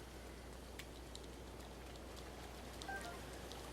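Steady rain falls in the video game Zelda: Breath of the Wild at Zora's Domain, a soft, continuous hiss of drops with a few faint tones over it and no talk.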